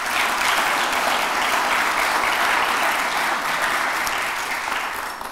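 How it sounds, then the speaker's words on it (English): An audience at a Vail Symposium talk applauding, a dense steady wash of clapping from many hands that fades slightly at the end. "Let's give all of them a round of applause."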